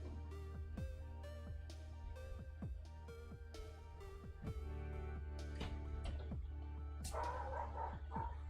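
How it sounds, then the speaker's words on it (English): A neighbour's dog barks repeatedly in the background, a steady run of sharp barks and yips, somewhat distant and fairly faint. "Thanks, dog next door. Very cool. Love the background noise."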